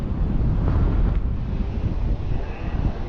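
Wind blows into the microphone outdoors above a river in Kuldīga, Latvia, a continuous loud low rumble that swells and dips in gusts with no other sounds.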